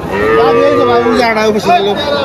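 A cow of Australian cross breed moos in a long, loud, wavering call at a busy cattle market in Faridpur, the low bellow rising and falling, with a second shorter moo near the end.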